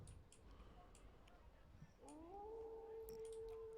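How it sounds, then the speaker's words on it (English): Wolves in The Universim video game howl faintly, one long rising then sustained tonal howl starting midway, over soft background ambience. "I hear the howls"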